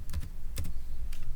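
Computer keyboard typing of Python code for a simple calculator program, three short bursts of keystrokes at a steady close range, each a quick cluster of clicks.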